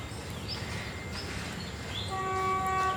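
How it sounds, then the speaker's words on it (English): Train rumbling past near the bridge in Kanchanaburi, a low steady roar from some distance, with a horn-like tone sounding toward the end. "I believe that's a train"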